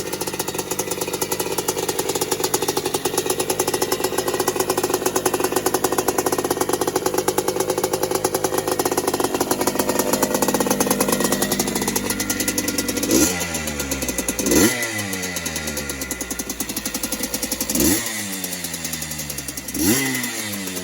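A restored 1978 Honda CR250R Red Rocket two-stroke motorcycle with a new 36mm carburetor and richer jetting runs loud and close, buzzing at a steady high idle before dropping, then snapping through several sharp revs that fall away each time.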